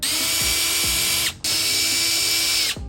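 A power ratchet removes bolts on a BMW R1250 motorcycle, its high motor whine running in two loud bursts separated by a brief pause, with clicking and knocking from the fastener underneath.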